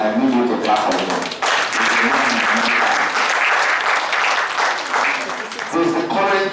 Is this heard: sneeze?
no